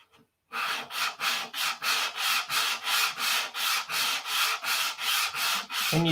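Hand sanding of a filler fillet on a P-47 model airplane, a rhythmic back-and-forth rasping stroke repeated about a dozen times close up, evenly paced and loud, with no talk.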